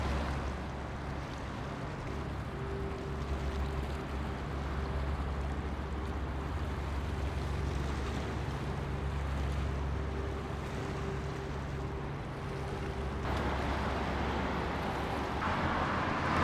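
A boat motors along a canal in the Netherlands, a steady low engine drone and hum with water and wind noise that continues evenly throughout.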